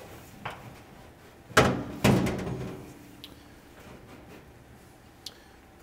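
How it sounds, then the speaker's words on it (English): Maytag dryer drum lifted and pulled forward off its rear rollers, giving a few short thumping knocks and a scrape, the two loudest close together, then quieter handling. "lift up on the drum, pull it slightly forward to lift it off the rear drum rollers"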